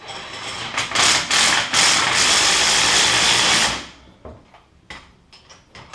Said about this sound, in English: It is easier to do with a drill, but you can do it with a wrench if you need to.